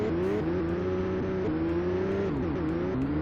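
Little Ford Escort race cars in the 2D racing game Ultimate Racing 2D drone steadily at high revs, engine pitch stepping up and down through gear shifts, loud and continuous with no talk.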